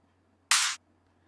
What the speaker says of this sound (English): Next we are adding the clap. I'm using a clap that sounds like this.